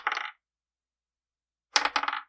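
Dice rattle and clatter across a surface in two short bursts separated by more than a second of silence.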